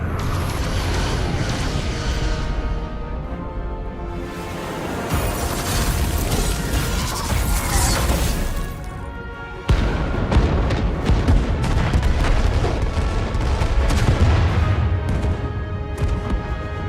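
Starship weapons fire in a Star Trek Resurgence final boss battle: loud, dense booming blasts and crashing explosions roll on continuously, with a sharp fresh surge partway through and no talking.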